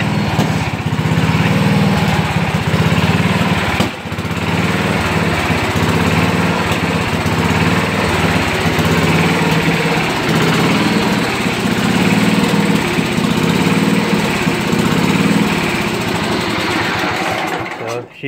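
A Super 12 engine runs on fuel drawn from its gas tank, which has a leaky fuel shutoff: a loud, close, steady mechanical drone that holds without a break for the whole stretch.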